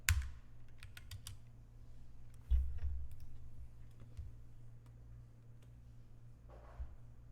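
Computer keyboard typing while building a Pokémon game in Roblox Studio: quiet, close key clicks in scattered short bursts and single taps over a low steady background hum.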